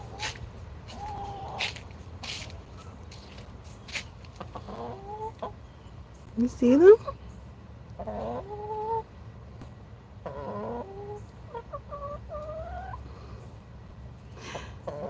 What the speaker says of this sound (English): Do I really have chickens? Yes. You hear them?